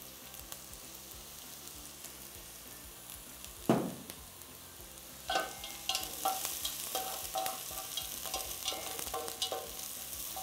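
Onions frying in oil in a pan while eggs are being fried, a steady sizzle throughout with sharp crackling and stirring clatter growing busier in the second half, close and alone with no talk.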